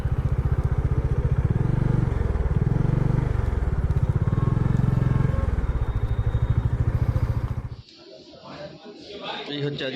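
A motorcycle engine runs close by with a steady, throbbing rumble, under a voice, then cuts off abruptly near the end, leaving quieter ambient noise.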